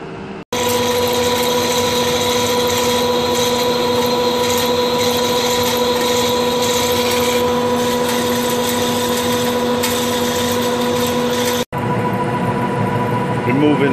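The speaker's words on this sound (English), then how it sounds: "drill through with a 20 millimeter hole" A steady machine whine hums with strong tonal drones, loud and continuous, as a lathe drills a 20 mm hole through steel, with a brief cut near the end.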